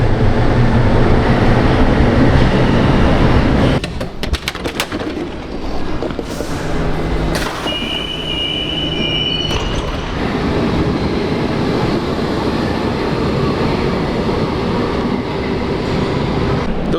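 An old A-type Munich U-Bahn subway train runs loudly with a heavy rumble, then after a few seconds a sharp shift brings clattering wheel noise, a brief squeal, and a steadier, quieter rolling drone.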